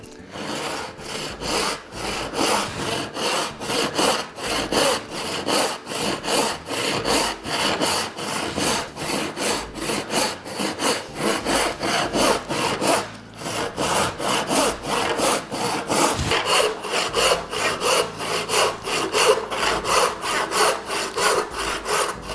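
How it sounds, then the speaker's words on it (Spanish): A hand saw cuts lengthwise along a wooden board in fast, even back-and-forth strokes, a loud close rasping rhythm that continues steadily with no talking. "Cuando estamos realizando un corte a lo largo de un tablero, vas a observar que va a llegar un punto que el serrucho se empieza a frenar."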